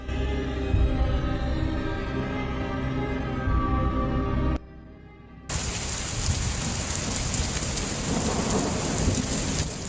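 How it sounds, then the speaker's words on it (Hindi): Heavy rain pours down with rumbling thunder in an animated scene, a dense steady downpour with a brief cut midway before the loud rain and storm noise resume. "दोबारा बारिश शुरू हो गई।"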